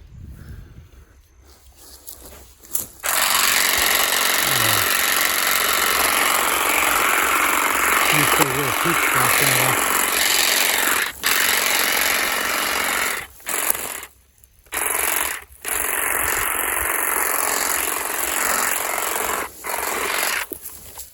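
A Saker cordless hedge trimmer and grass shears cut grass around fruit trees and young rhubarb, a steady buzzing whir that stops and restarts several times, close by and loud.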